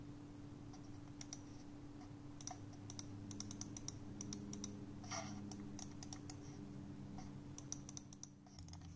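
Aorus M2 gaming mouse buttons clicked in quick, light taps, some single and some in rapid clusters, crisp and close over a steady low electrical hum.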